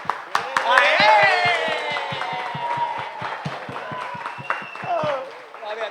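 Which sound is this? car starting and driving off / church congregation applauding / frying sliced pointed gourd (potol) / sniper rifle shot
church congregation applauding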